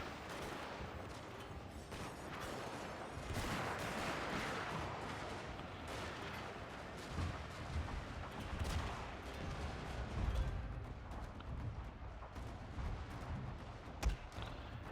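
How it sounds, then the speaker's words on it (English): Musket volleys crackle in the video game Shogun II: Fall of the Samurai as dense, continuous rolling gunfire mixes with battle noise and occasional heavier thuds, with no talking. "Hold the line. Keep firing."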